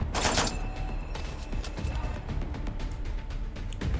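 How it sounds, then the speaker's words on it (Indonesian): Gunfire in a film scene, a burst of loud shots at the start with further sharp reports scattered through a dense, noisy soundtrack. "Futomata akhirnya ditembak."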